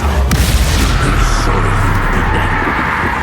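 Spell blasts from the Expulso curse in Hogwarts Legacy, a deep booming explosion that rumbles loudly and steadily over game noise, with a brief sharp burst near the start.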